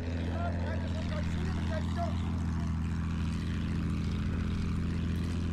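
A propeller fighter plane drones continuously in Battlefield 1, its engine a loud, steady low hum with faint battle sounds on top.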